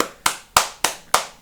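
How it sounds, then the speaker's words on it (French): Five sharp, evenly spaced claps ring out close by at about one per third of a second, each decaying quickly, as at the 8 pm applause for carers, with no voices. "faut applaudir"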